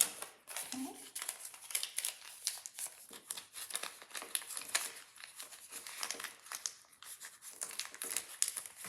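Crisp rustling and crinkling of $10 paper bills being stuffed into a savings binder, steady close handling noise with paper shuffles and flaps, with soft talking woven in.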